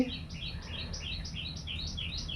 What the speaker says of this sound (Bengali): পাখিটা কি সুন্দর ডাকছে